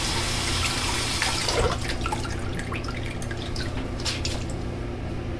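Water splashes and drips close by as a freshly shaved head is rinsed over a sink, with bursts of splashing and scattered droplets above a steady low background hum.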